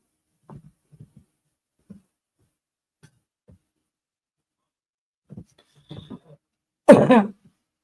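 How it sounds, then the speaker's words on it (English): A single loud burst of coughing near the end, preceded by scattered faint rustles and small taps in an otherwise quiet room. "Excuse me for coughing, guys."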